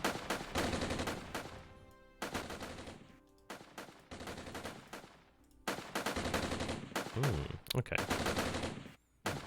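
Rifle and machine-gun fire from infantry in the Armored Brigade war game crackles in dense repeated bursts, loud and close, with brief gaps between volleys and a short spoken word partway through.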